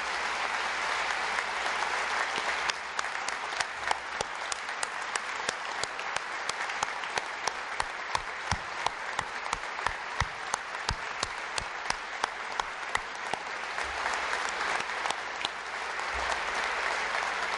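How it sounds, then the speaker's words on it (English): Sustained, loud applause rolls through a large hall at a Michigan state address in honor of armed services members, with sharper individual claps standing out as the ovation carries on steadily. "if you'd join me in a round of applause for all those wonderful people serving us"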